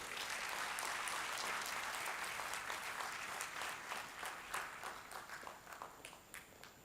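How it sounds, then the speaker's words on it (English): A round of audience applause at an AI conference event in Odisha, steady dense clapping that thins out and becomes sparser toward the end, heard at a moderate distance. "Can we have another round of applause for Madam Nivriti Rai?"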